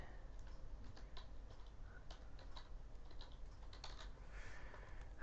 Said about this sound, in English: And my typing is horrendous.